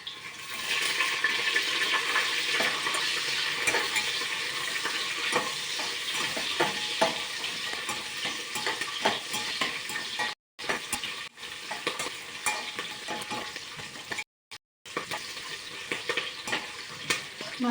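Green chillies fry in hot oil for masala pulao, giving a steady, dense sizzle with crackling spatters that runs almost without a break, dropping out briefly twice.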